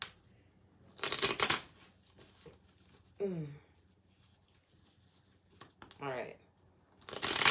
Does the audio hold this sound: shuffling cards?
yes